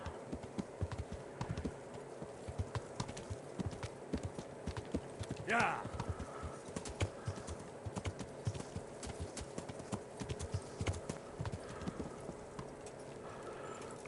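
Horse hooves clip-clop steadily in the medieval video game Kingdom Come Deliverance, a continuous rhythmic patter of hoofbeats with a brief whinny-like sound midway, under faint speech.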